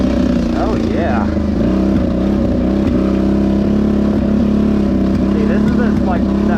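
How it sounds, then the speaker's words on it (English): An out-of-tune car engine idles loudly and steadily up close, with irregular pops and backfires breaking through its low drone, while people talk over it. "that backfiring that I'm hearing"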